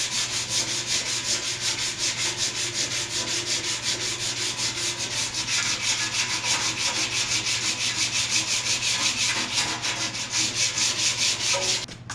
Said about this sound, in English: when I'm trying to hand sand down